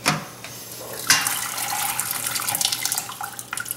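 Gumbo broth from a chicken and sausage gumbo pours through a colander into a kitchen sink. The steady rushing splash of liquid starts after a brief pause and continues to the end, close and fairly loud, with no talking.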